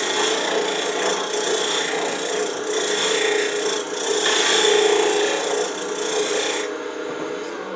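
A woodturning scraper rasps steadily against a spinning wooden box on a lathe, facing off its surface; a continuous, close, scratchy cutting noise that swells and eases slightly and fades near the end.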